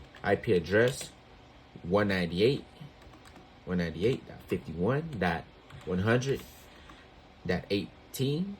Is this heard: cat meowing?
no